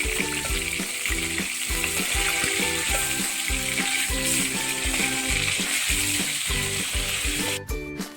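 Fish frying in hot oil gives off a steady, fairly loud sizzle throughout, with background music playing over it.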